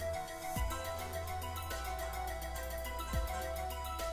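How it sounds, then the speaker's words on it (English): A mobile phone ringtone plays as a faint, repeating melodic tone that carries on steadily in the background, with no talk over it. "my phone continues to ring"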